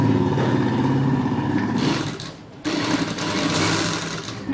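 A sewing machine runs hard as it stitches the folded hem of a skirt made from waste cloth, a loud, steady close-up whir that dips briefly midway before surging back to full speed.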